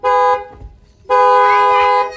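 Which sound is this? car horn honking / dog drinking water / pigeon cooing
car horn honking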